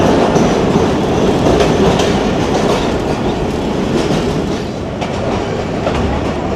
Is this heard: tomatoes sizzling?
no